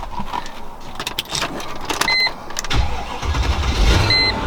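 Mercedes ML55 AMG that has sat for a while with surface rust, cranking and catching close by, the engine settling into a rough idle with faint clicks and rattles around it.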